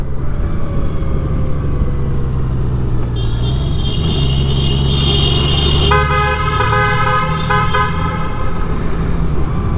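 A Honda Goldwing horn toots repeatedly inside a tunnel over loud, rumbling engine and road noise, the tones ringing and overlapping in the enclosed space.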